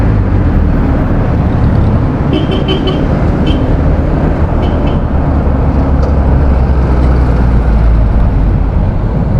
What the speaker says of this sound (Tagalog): Napaka-traffic. Sobra.